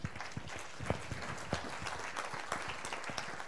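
An audience at an Italian event marking 300 years of Maria Gaetana Agnesi applauds with dense, continuous clapping and a few sharper individual claps standing out.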